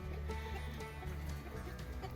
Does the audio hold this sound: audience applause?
no